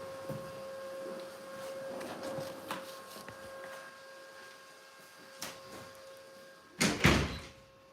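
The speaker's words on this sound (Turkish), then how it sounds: "şu kapıyı kapat" A door is shut in an indoor room, with soft shuffling and handling noises and a steady electrical hum before a loud, sharp closing thud near the end.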